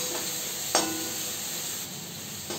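A steady, close sizzle of ginger garlic paste frying in a hot pan over medium flame, with occasional soft scraping as it is stirred.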